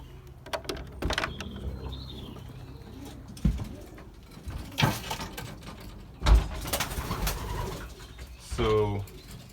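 Belgian racing pigeons coo inside their loft in soft, repeated low calls, mixed with scattered knocks, wing shuffles and a brief mechanical sliding sound, with some voice in the background.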